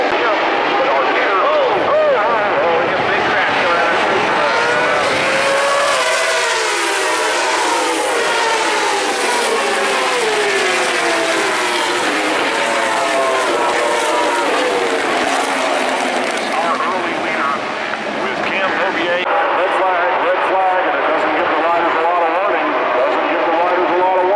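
MotoAmerica Superstock 1000 motorcycles racing at Laguna Seca in 2016, a pack of loud engines roaring and whining through gear changes, continuous and close, with a commentator talking over them throughout.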